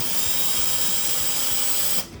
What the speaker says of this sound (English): I have the speedometer cable hooked up to the drill because I wanted to test it before I put it in place